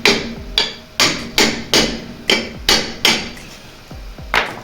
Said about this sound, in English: get yourself a hammer and just give it a little tap.